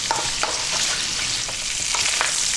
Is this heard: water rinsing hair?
no